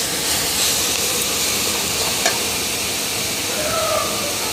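Boiled jute leaves stir-fried in a pan, a continuous loud hiss of steam and frying, close and unbroken, with a faint scrape or two of stirring.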